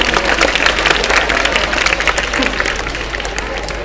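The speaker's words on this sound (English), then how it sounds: "Clap for them everyone." Dense applause from a school audience at a debate program, steady clapping filling the whole stretch with a faint hum underneath and some crowd murmur mixed in.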